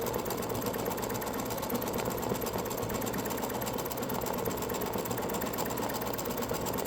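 An embroidery machine stitches a free-standing lace basketball earring, a steady rapid mechanical chatter with an even hum that continues unbroken throughout, close and without talk.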